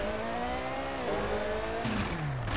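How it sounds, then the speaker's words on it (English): A rally car engine in the video game RalliSport Challenge at Vista Peak drones with layered harmonic tones that climb, shift with gear changes and drop again, loud and close throughout. "It's got like two engine sounds to it."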